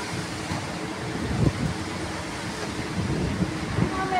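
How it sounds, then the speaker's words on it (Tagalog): Strong wind gusts and buffets outdoors in a steady roar with a few louder bursts, and a voice is faintly present. "Lakas ng hangin talaga."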